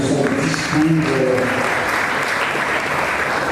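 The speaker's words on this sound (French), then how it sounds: "vous êtes priés d'applaudir le président pour son discours." Audience at a graduation ceremony applauds the president's speech, with thick continuous clapping throughout and a brief voice audible near the start.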